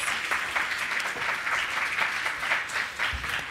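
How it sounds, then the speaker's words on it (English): An audience applauds a panel on crisis management at a health conference. Sustained, even clapping fills the room with no talking. "Please, round of applause."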